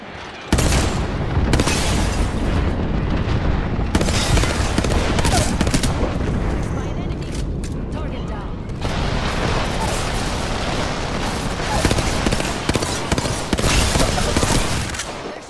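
An air raid in a battle royale shooter game brings dense, loud rolling explosions and gunfire-like bursts that continue almost without pause, with a short quieter gap at the start.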